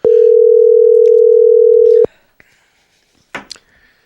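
Steady telephone dial tone holds loud and unbroken for about two seconds while a call is being placed, then cuts off, followed by a few faint clicks and a brief noisy burst near the end.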